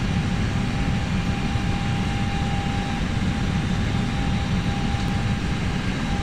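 Airbus A320 auxiliary power unit running inside a flight simulator cockpit, a steady, loud broadband drone with a faint constant whine on top, unbroken and without speech.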